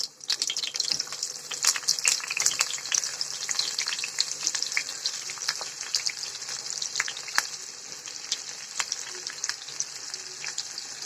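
Onions sizzle in hot oil in a home kitchen, a loud, busy crackle close by with frequent sharp spits and pops over a continuous hiss, no talking.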